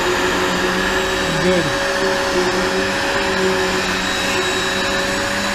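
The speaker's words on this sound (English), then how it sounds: "That Hoover does a beautiful job on flat surfaces." A Hoover vacuum cleaner runs steadily and loudly on the flat floor of a 1988 Coachman Class B RV, a continuous whining drone with a brief shift in pitch, while a voice speaks briefly.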